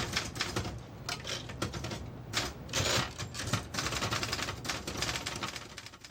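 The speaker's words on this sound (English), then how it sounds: "Fingers fly across the keyboard, preparing for the newscast" Rapid typing on a keyboard in an early-morning newsroom before a newscast: a dense, continuous clatter of fast keystrokes, fairly loud and steady, with no voices.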